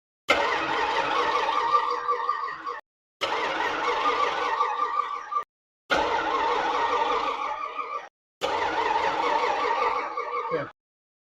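An AMC Hornet's 360 engine cranks over without firing: four long bursts of the starter's rapid chugging, each about two seconds, separated by short silences, loud and near.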